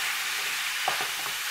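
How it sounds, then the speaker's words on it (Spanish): Ground beef frying with onion in a pan, a constant close sizzle broken by a few soft scraping stirs over a short stretch, with no voices. "vamos a echar ahora la carne para que se cocine. Y vamos a mezclar."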